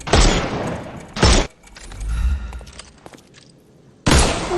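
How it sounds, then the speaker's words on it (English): In the Sherlock Holmes Chapter One video game, enemy armour is shot off: three loud, sharp bursts, each with a shattering crack, separated by quieter rumbling in between. "Shoot off their armour."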